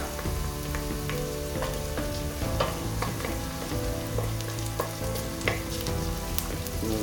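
Onions and chili sweating in a pan for chili con carne, a continuous close sizzle with intermittent scrapes and clinks of stirring throughout.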